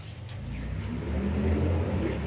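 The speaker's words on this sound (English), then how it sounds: "don't mind the noise outside, because lots of cars driving by in my neighborhood" Traffic noise from passing cars outside, a broad low rumble swelling as a vehicle goes by, moderately distant, with no talking.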